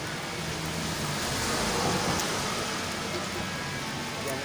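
Steady rain hisses down onto surfaces as an even, broadband wash with a faint vehicle rumble underneath, holding a constant level throughout.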